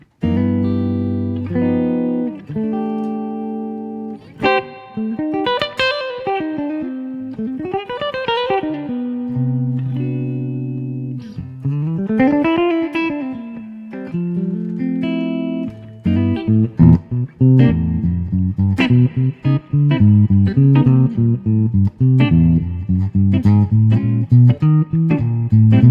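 Clean, warm jazz-style electric guitar through a Torpedo Live amp modeller, playing mellow chords and single-note lines, smooth and rounded with a touch of reverb, continuous with no voices.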